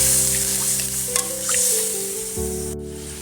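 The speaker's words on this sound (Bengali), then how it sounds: "এবারে জল দিচ্ছি" Water poured into a hot pan of spiced potatoes with chili powder sets off a loud, steady sizzle with light splashing, heard alone with no talking.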